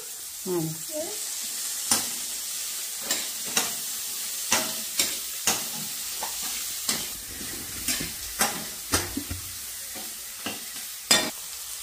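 Spices, turmeric and curry leaves sizzle in hot oil while a spoon repeatedly stirs and scrapes the pan for Maharashtrian potato bhaji, with regular clinks over a soft frying hiss and no talk.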